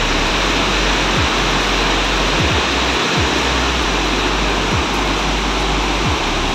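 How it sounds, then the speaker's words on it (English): A loud river flows through green surroundings beside an Assam road, making a steady, dense roar of rushing water with no break, heard close up. "If you look at the river flowing,"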